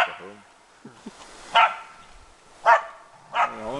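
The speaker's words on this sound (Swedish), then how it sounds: "Han har bra skall, Amanda." Two-year-old bear-hunting dog barking outdoors, three loud separate barks spaced about a second apart, with softer whines and yips between them.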